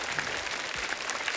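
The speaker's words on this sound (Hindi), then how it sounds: "जोरदार तालियां हो जाए इस सुपर टैलेंटेड टीम के" A studio audience on The Kapil Sharma Show claps loudly for the visiting actors. The clapping is dense and continuous, close and full, with no voices over it.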